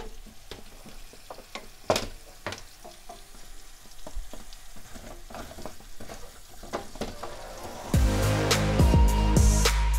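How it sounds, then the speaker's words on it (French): Apples for a tarte tatin stirred and frying in a pan: scattered utensil scrapes and light sizzle at first, then a loud, steady frying hiss swells up near the end, close and without talk. "On vient insérer nos pommes comme ceci. Et on mélange bien."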